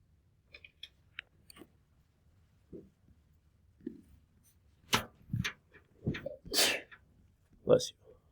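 A person sneezes loudly near the end, after a few quiet clicks and soft mouth sounds in an otherwise hushed room, with a burst of breathy noise just before the main sneeze.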